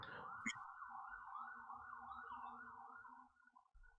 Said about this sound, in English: I just hear sirens.